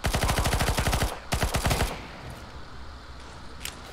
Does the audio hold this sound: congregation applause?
no